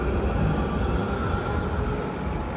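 Passing train in Frankfurt, a loud continuous rumble and rolling roar close by, steady throughout.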